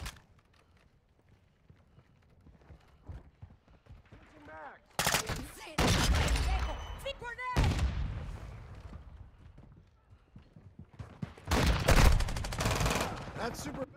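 Bursts of rapid gunfire from Call of Duty: Modern Warfare II, with loud sustained volleys around the middle and again near the end, separated by quieter stretches of scattered shots and movement; voices shout over parts of it.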